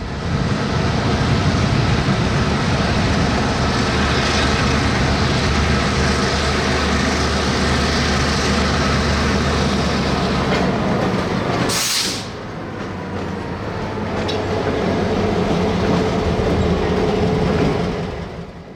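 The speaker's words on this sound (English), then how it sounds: "the NX-12 pulls the majority of their train out of West Yard" A loud, steady rumble of a freight train rolling out, with clattering wheels and a brief sharp hiss midway, no voices.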